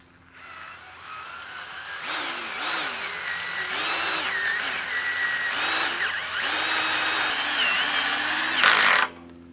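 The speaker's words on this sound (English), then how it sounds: "let's try driving this tech screw into that hole and see how easy it is" Close, loud power drill driving a tech screw into a pre-drilled hole during hoop house installation, whining steadily with several rising and falling speed surges before stopping abruptly near the end.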